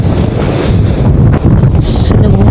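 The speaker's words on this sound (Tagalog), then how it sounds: "Sobrang lakas ng hangin." Strong wind buffeting the microphone on a cold stretch of the Great Ocean Road coast, a loud continuous roar with gusting swells and rumble and no clear voice.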